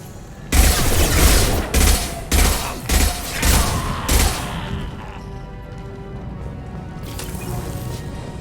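Gunfire in the video game Mass Effect 2, a series of heavy, booming shots in a steady rhythm, about six in a row, loud and close, with a quieter rumbling tail and faint background noise afterwards.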